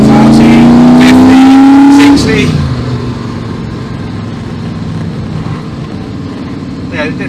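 A 1991 TVR V8S with a 3.9 litre V8 pulls in third gear at low revs, giving a loud, close, steady rising drone for about two seconds that then drops away into a softer, rougher engine rumble and road noise.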